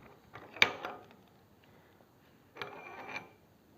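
A wrench loosens the fork axle clamp bolts on a Moto Guzzi motorcycle with a split fork, giving two short, faint metallic ratcheting clicks separated by a pause.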